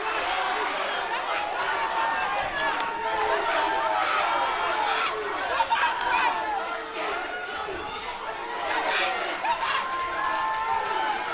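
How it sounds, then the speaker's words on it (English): Boxing crowd at Sony Hall cheering and roaring during a late-round exchange, a dense, sustained wash of many voices with rising swells, heard close and loud throughout. "The crowd comes alive here at Sony Hall."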